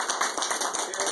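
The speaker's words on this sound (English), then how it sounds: "Just give him another round of applause." A small audience claps for a speaker at a political gathering, with distinct, fairly loud individual claps in a quick, uneven rhythm and no voices over them.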